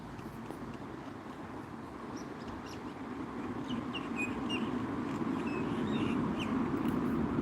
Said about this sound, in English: Can you not hear the wind and the birds?